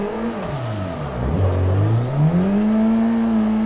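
A race car engine in the Assetto Corsa video game revs and whines through a drift at Ebisu Minami Jump, its pitch dipping low and then climbing steadily, loud and continuous with faint tire squeal.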